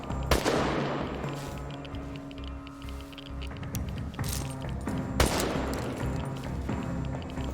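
Gunfire in the video game Chernobylite, sharp shots and bursts amid a busy combat mix with sustained tones, two strong blasts standing out.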